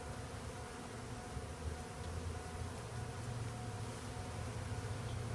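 Honey bees swarm and buzz in a dense, continuous drone during removal of a hive from a window in Edinburg, Texas, a steady hum close by with no talking.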